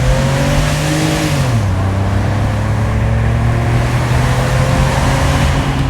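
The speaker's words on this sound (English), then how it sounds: "we're going to do a bit of a launch in Steve's car" A BMW 330Ci engine droning loud and close in a steady hum, then dropping pitch slightly partway through and holding a constant roar under heavy buffeting.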